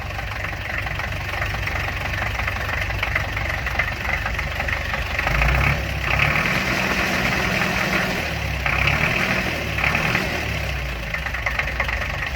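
A warmed-up homemade tractor engine idles steadily after its idle speed has been adjusted, a continuous low, knocking chug with slight swells in revs, close and fairly loud throughout with no talk.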